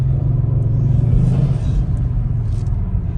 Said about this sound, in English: Hopefully you're hearing those turbos right now.